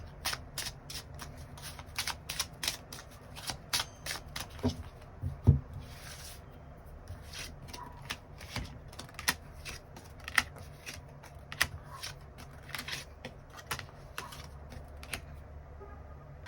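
Tarot cards are shuffled and drawn by hand, giving a quiet, close run of crisp flicks and snaps in irregular bursts, with no talking.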